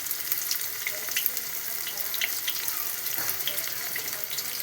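Oil spattering and crackling while corn gobi fries in a home kitchen, a continuous bright hiss dotted with small pops at moderate loudness.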